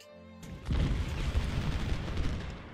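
Cannon fire in the Civil War strategy game Ultimate General: Civil War, heard as a burst of low booming artillery that settles into a sustained rumbling barrage, moderately loud and without voices.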